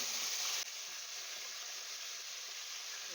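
Herb residue frying in oil in a pan while making a herbal hair oil, heard as a steady, close hissing sizzle that drops slightly in level after the first half second and then holds evenly.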